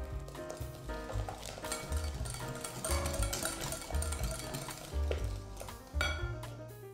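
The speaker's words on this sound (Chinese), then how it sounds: "这个蛋糕不需要打发，所以我们在搅拌的时候也不要太快，搅拌到白糖融化就行了。" Eggs and white sugar stirred gently by hand for madeleine batter, with a steady run of clinking and scraping from the bowl and utensil, close and moderately loud with no talk.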